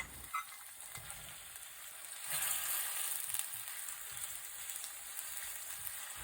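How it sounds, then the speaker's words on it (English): Ground pork with ginger, garlic and scallions stir-fries in a pan for mapo tofu, a soft continuous sizzle with light stirring clicks that swells briefly partway through. "Stir fry them."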